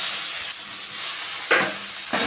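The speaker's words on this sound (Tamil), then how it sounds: "கொஞ்சம் எண்ணெய் எடுத்து வச்சுட்டு இதில் வெங்காயத்தை நல்லா கொட்டிக்கலாம்" Sliced onions sizzle loudly in hot oil in a pan for a brinjal oil gravy, a steady hiss with bursts as they are stirred.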